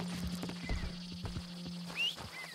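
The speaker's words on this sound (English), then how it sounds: "Come here, you silly nag." Horse in Red Dead Redemption 2 clip-clopping with steady hoof steps at close range, then letting out a short whinny near the end, over a low steady background hum.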